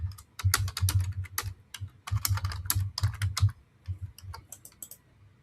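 Fast, irregular keystrokes on a computer keyboard while entering simple text into a PlantUML diagram, close and clear, in dense bursts with short pauses and no voices.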